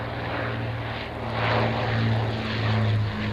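An Avro Lancaster bomber flies past at Duxford, its piston engines and propellers making a loud, throbbing drone that swells briefly as it passes close.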